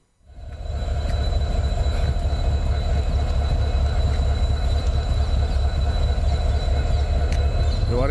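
A train rumbles through an open railway level crossing in Ramanathapuram, a loud, steady close-up roar of wheels and cars that swells in at the start and continues throughout.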